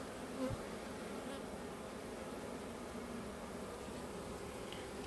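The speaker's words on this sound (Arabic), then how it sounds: "كمية لا بأس به من النحل" Honeybees hum around traditional beehives in autumn, a steady, dense buzzing drone that holds evenly throughout, with a faint tap near the start.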